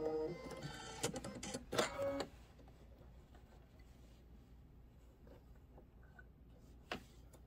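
An embroidery machine stitches a Candy Cane Lane design for a Kimberbell Peppermint Avenue bench pillow, giving a couple of seconds of rapid, busy mechanical clatter before fading to a quiet room with a few faint isolated ticks.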